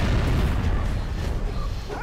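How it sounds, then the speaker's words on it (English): Weapon fire in Jak and Daxter's Boggy Swamp, an auto-targeting gun shooting at bats, gives a dense run of booming, bursting blasts that rumble on for two seconds, loud and close with no talk. "So you do this and you just fire away at the bats."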